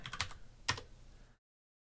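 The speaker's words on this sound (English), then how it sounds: "to do that, you type init disk" Keys clacking on a computer keyboard as a command is typed into an Apple II emulator, a quick cluster of a few taps followed by one firmer stroke, then silence.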